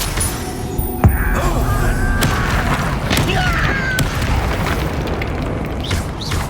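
Confringo blasting curse explosions in Hogwarts Legacy, a sharp boom near the start followed by repeated bursts and crackling spell blasts over a dense, loud game soundscape with no talk.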